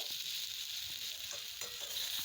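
Fish roe sautéing in a pan with turmeric and chili powder, giving a steady bright sizzle with a few soft stirring scrapes, close and unbroken for a couple of seconds.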